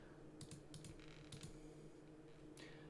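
Clacky keystrokes on a Razer BlackWidow mechanical keyboard, typed with two fingers in short irregular bursts, close and fairly quiet over a faint steady room hum.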